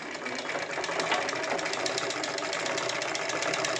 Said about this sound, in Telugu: మనం రిపేర్ చేసిన ఈ రాధా మిషన్ చూడండి